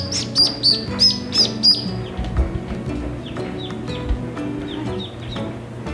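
Ducks call in a quick run of bright, repeated bursts at the start, then sparser quacking over a steady background of farmyard bird chatter, fairly close.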